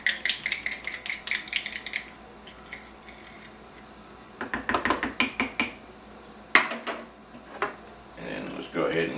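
A plastic spoon scrapes and clicks rapidly in a bowl while mixing deviled egg filling, in bursts of quick rhythmic strokes with pauses and a sharper knock partway, under intermittent nearby talk.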